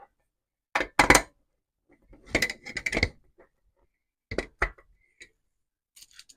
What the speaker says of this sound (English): we'll just start these black screws off, 10 in total, and then once they're all in, we'll tighten them up